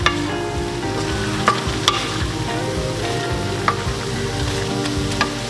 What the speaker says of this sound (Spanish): Mezclamos bien.